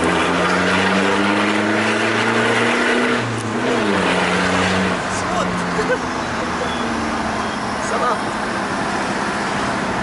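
A loud turbo diesel engine in a modified Toyota Innova drones and revs with a rising, shifting pitch, heavy and close, with people talking and laughing over it.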